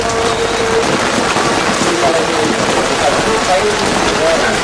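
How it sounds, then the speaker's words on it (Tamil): Heavy rain falls in Ampara, Sri Lanka, during a stretch of downpours that began the night before. It makes a loud, dense, unbroken hiss of drops on surfaces, close and constant throughout. "அம்பாறையில் நேற்றிரவு தொடக்கம் மீண்டும் கடுமழை பெய்து வரும் நிலையில் இன்று மாலை சுழல் காற்று வீசியுள்ளமை"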